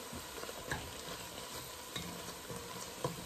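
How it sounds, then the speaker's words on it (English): A pound of ground turkey cooks in a pan on medium-high heat for homemade chili, a steady quiet sizzle with occasional soft scraping stirs, no voices. "We're cooking on medium-high heat. This is our ground turkey that we are cooking"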